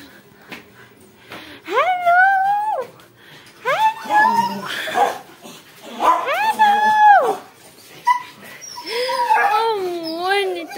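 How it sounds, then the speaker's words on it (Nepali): Several excited pet dogs at home whine, yip and bark in repeated bursts, loud and close, with a person talking over them. "मेरो कुकुरहरू है कति रमाउँछ हेर्नु है"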